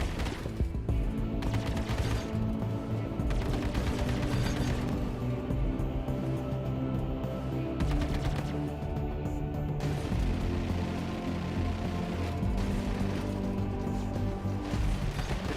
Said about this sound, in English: Your weapons are getting hot. Fire in controlled bursts.